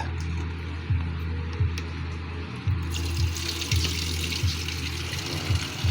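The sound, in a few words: water pouring from a tap into a pot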